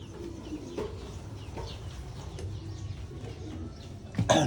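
Soft, low pigeon coos repeat against a faint outdoor background, with a brief louder rustle near the end.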